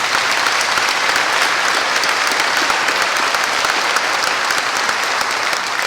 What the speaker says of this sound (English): I think we need to give our host and MC, Mr. Gary Hicks, a round of applause